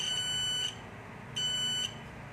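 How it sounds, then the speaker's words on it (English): A steady high-pitched electronic buzz from a multimeter continuity tester sounds twice, each tone lasting under a second with a gap of quiet hum between. "then you get the buzzer sound"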